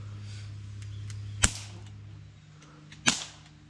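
Two sharp airsoft gun shots crack about a second and a half apart, aimed at a branch in a rainforest, close and loud over a steady low hum.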